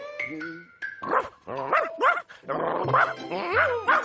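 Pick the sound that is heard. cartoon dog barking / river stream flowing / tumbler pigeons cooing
cartoon dog barking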